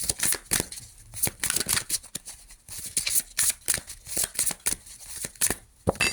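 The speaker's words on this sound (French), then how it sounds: "il y a trop de cartes là qui sont tombées" Tarot cards being shuffled by hand, a close run of quick riffling and slapping bursts in an uneven rhythm, fairly soft, with no talking.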